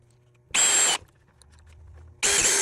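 A power drill drives 1 1/4 inch screws at an angle to toenail the front and back rails of a Homestead side chair, giving two short, loud high-pitched whirring bursts with quiet between them.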